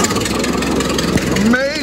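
A steady tractor engine rumble runs throughout, close and loud, with a rising whine near the end as it revs.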